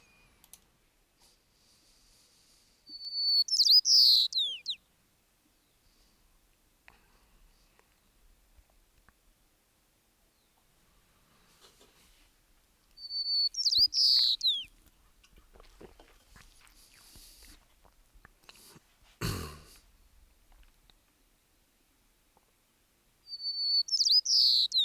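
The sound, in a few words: white-crowned sparrow isolate song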